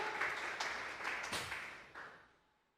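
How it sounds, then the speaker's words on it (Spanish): Church congregation clapping as an offering of applause to God during a Sunday service: a short burst of scattered claps rising and then fading to quiet over under three seconds. "vamos a regalarle ofrenda de palmas al Dios de la gloria"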